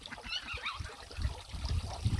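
Pet ducks call out softly near water, a scattering of faint quacks and honks over a low trickling background, with no talking.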